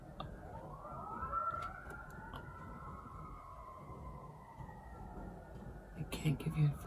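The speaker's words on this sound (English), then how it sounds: "And then the sirens went off." An emergency siren wails in a slow, steady rise and fall for several seconds, moderately distant, over a low background rumble with a few faint clicks near the end.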